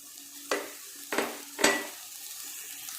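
Masala and garlic paste frying in a pan for prawn gravy, with three distinct stirring scrapes about half a second apart over a soft, continuous sizzle, close and fairly quiet.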